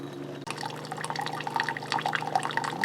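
A Keurig coffee maker dispenses water during a descale rinse cycle, a steady close stream splashing and trickling into a cup after a brief click, with faint drips and gurgles throughout.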